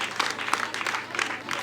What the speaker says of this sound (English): Children, let's clap to God for the gift of the children.